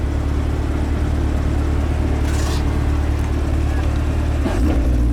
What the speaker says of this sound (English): You can hear a difference in the car